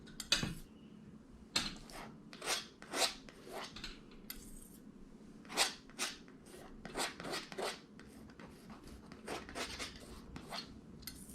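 A palette knife scrapes and loads acrylic paint on a palette while painting a sunset landscape, giving a series of short, dry rasping strokes in irregular bursts, close and fairly quiet, with no talking.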